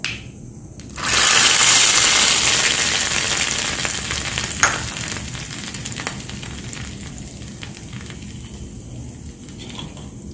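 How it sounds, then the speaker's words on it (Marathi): A hot tempering of red chillies is poured into chutney and erupts into a loud, sudden sizzle after about a second. The crackling frying noise then gradually fades while continuing to the end. "याच्यामध्ये आता हा तडका आपण टाकून द्यायचा आहे केलेला"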